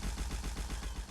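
A turret fires in a video game boss prototype, producing a rapid, evenly spaced burst of synthetic gunfire pulses that repeat steadily throughout the short loop.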